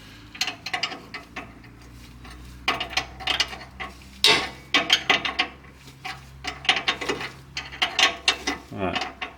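A brake hose fitting on a Subaru Sambar is tightened with a ratchet, giving repeated bursts of quick metallic clicking in irregular runs, close and moderately quiet, with a brief voice near the end.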